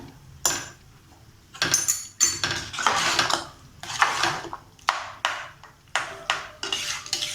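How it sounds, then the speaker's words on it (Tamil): Metal spoon scraping and clinking against a pot while milk pongal is stirred, in irregular bursts of close, bright scrapes and taps with short pauses between. "எல்லாம் நம்ம கலக்கி விட்டுக்கலாம்."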